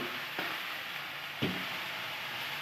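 Leafy greens with salt and turmeric sizzling in a pan as they are stirred, a steady soft frying hiss broken by a couple of brief scraping clinks of the spoon.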